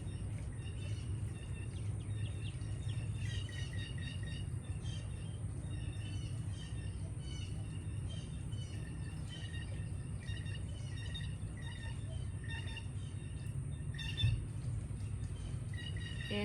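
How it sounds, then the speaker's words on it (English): Birds sing outdoors in quiet chirps and short repeated calls, faint and continuous over a steady low background hum, with no talk. "These birds are wonderful. They're my favorite."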